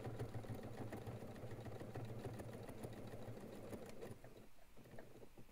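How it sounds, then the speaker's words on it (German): A sewing machine runs continuously, stitching a seam just beside the existing seam of a crossbody bag or fanny pack, with a steady close mechanical whir that slows and stutters briefly near the end. "Knapp neben der Naht nähst du nun einmal entlang bis nach unten."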